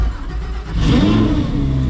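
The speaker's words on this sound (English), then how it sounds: "off we go in the Audi R8 LMS GT2. It is so loud in here" Audi R8 LMS GT2 race car, road legal, revs its engine from inside the cabin, a loud deep roar swelling midway and holding as it pulls away in first gear.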